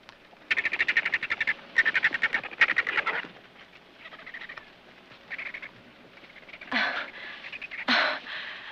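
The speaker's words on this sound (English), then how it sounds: "that's a whiskey jack" A whiskey jack, or gray jay, gives bursts of rapid, harsh chattering calls nearby, a few series in quick succession with short pauses between, followed by softer calls and two louder squawks, with no talk over them.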